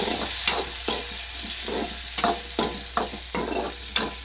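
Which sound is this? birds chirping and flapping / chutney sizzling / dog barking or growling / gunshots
chutney sizzling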